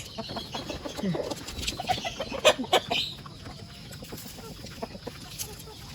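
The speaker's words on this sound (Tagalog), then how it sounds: "Ayan na ang 4 na sisiw." Chicks and chickens in a coop at evening, a steady mix of soft clucks and peeps close by, with a few louder calls in the middle.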